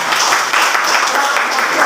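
A classroom of students claps for a classmate, a brief, close and loud burst of many hands clapping together at an even pace.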